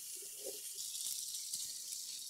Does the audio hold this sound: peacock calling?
no